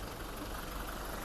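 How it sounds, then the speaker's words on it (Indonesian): A Toyota Venturer diesel engine with automatic transmission idles steadily just after starting, a continuous low, even rumble filling the short stretch with no voices. "Mesin udah nyala, biarin dia panas."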